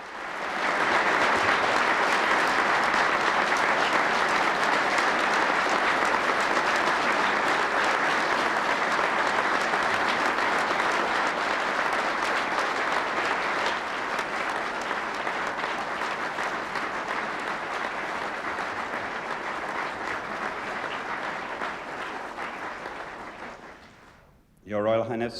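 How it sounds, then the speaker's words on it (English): Thunderous applause from an audience at a charity function, a dense sustained roar of clapping that holds strong for over twenty seconds before fading out near the end. "And they burst into thunderous applause."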